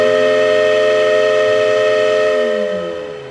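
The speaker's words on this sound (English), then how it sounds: "It's an authentic Casey Jones train whistle." A push-button Casey Jones toy train whistle sounds a loud, steady multi-tone steam-whistle chord that holds for about three seconds and then drops in pitch and fades, with no other sounds present.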